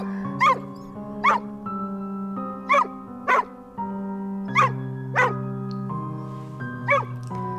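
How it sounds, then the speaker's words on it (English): A dog barks over and over, about nine sharp barks in a steady rhythm, over sustained background music tones. "all they can hear is the dog Shaggy barking non-stop"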